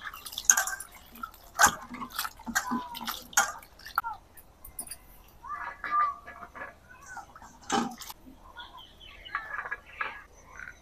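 Water drips and splashes as cut cauliflower is rinsed by hand for samosa filling, with irregular close splashes and trickles throughout, moderately loud, and a faint voice in the background.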